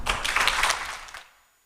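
A brief burst of audience applause at a Diwali kirtan celebration, a dense patter of many hands close by that fades out after about a second.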